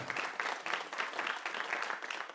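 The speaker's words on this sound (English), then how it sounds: "Round of applause for them" Audience applause at a BSides Fort Wayne security conference in 2022, a brief steady patter of many hands clapping at moderate volume, without speech.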